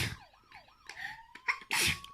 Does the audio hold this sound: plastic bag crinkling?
no